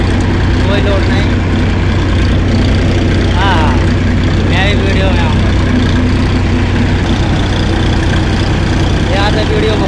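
A Massey 7250 tractor engine idles steadily at 1200 RPM with no load, a constant low rumble heard close up while someone talks over it.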